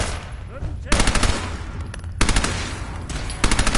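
Automatic gunfire from the video game Fallout 4, rapid loud bursts of shots in three stretches separated by brief quieter gaps, with a faint voice underneath.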